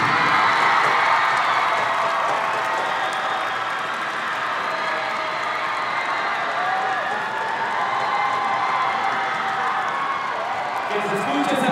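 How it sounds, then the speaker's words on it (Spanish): Crowd at a school sports games opening ceremony with cheer and animation group performances, a continuous loud wash of applause and cheering with whoops filling the whole stretch. "Que se escuche ese aplauso para el Oriente."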